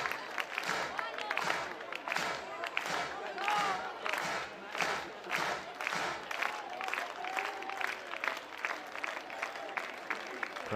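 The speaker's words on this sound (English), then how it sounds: "Crowd trying to help out Wentworth." A college baseball stadium crowd at a Texas versus Kansas State game cheers and claps in rhythmic waves, moderately distant, with shouts and a voice rising above the steady roar.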